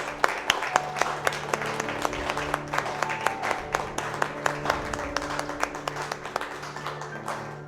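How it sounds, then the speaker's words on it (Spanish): A church congregation applauds during a worship service, with a dense wash of hands and a steady rhythmic beat of clapping that continues for several seconds, fairly close and loud. "Denle un aplauso a nuestro Dios"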